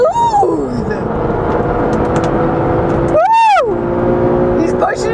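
A McLaren GT accelerates hard on a race track, its engine note climbing through the revs, dropping at an upshift and climbing again, loud and close from inside the car.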